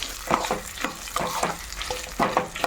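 Tamarind sizzling in hot oil in a pan while being stirred, with repeated scraping strokes and a continuous close frying crackle.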